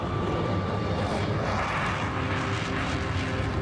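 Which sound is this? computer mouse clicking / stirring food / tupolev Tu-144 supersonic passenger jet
tupolev Tu-144 supersonic passenger jet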